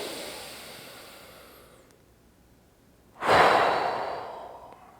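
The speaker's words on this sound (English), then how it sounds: "take a deep breath." A single deep breath: a slow, soft inhale fades out, a short pause follows, then a strong, close, breathy exhale that tapers off gradually.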